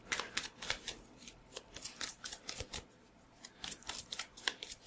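A deck of Magic: The Gathering cards being shuffled in a vintage tabletop game, producing quick crisp riffles and slaps in uneven bursts, close and quiet.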